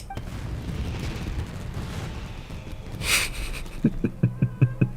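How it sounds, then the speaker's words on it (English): Fireworks going off in Genshin Impact, several sharp, evenly spaced booming pops near the end after a louder burst, over busy game music and ambient sound. "This is turning into a bit of a fireworks display."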